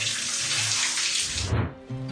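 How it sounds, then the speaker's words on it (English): A heavy stream of water pours from a luxury hotel shower in Iceland, a steady broadband rush that fills the clip, briefly shifting in tone near the end as the flow is disturbed. "the shower is really nice. Check this out. Heavy duty stream or just waterfall."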